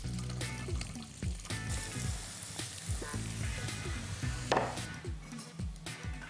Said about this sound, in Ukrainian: І починаємо смажити цибулю.